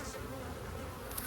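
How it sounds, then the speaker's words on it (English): Honeybees swarm around a busy, booming hive while a honey super is being added, making a dense, unbroken buzz that sounds close and steady throughout. "Maybe I couldn't hear it over all this buzzing"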